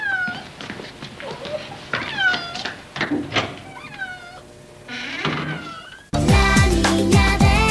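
A cat meows again and again in a Mexican telenovela scene: a run of short and drawn-out cries, some rising and falling, fairly close and clear. Music then cuts in abruptly near the end.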